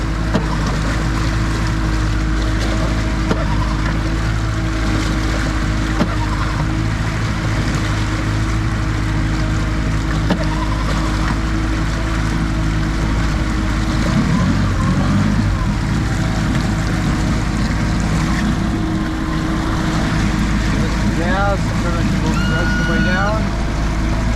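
A 2017 Hewescraft 180 Sportsman boat motor idles and runs steadily on the water, a loud continuous low drone with wind and water noise around it, someone talking over it.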